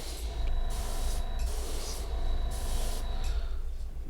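A steady hiss of spray from a can onto Space Marine miniatures, in two long bursts with a short pause between, close by.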